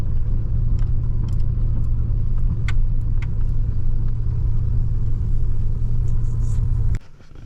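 A truck rolls across farmland at night toward the edge of a field, its engine a loud steady low rumble with faint rattles inside the cab, easing off abruptly near the end.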